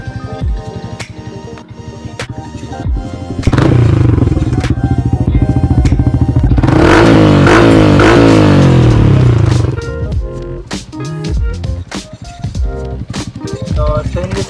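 A Yamaha Sniper 150 motorcycle fitted with a Mody5 exhaust pipe idles, then revs loudly in sustained throttle bursts before dropping back to a burbling idle with sharp blips, heard up close.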